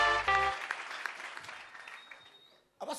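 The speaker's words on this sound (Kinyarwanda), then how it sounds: "Komera Imana amashyi" Applause from a church congregation rises after a brief spoken phrase and gradually fades over a couple of seconds, with a voice returning at the very end.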